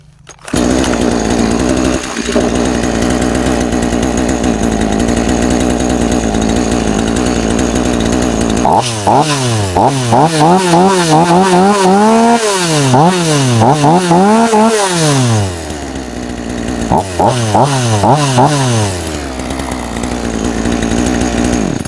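A New West 488 chainsaw engine runs steadily up close during carburetor tuning, its pitch rising and falling through repeated revving bursts before settling back to a rough idle.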